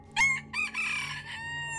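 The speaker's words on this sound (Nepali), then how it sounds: "जब त्यही गोठ छेउमा रहेको भाले बास्यो" A rooster beside a cattle shed crows once, fairly close and loud, its drawn-out call broken into a few rising and falling segments against a quiet background.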